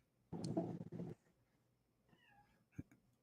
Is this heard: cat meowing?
yes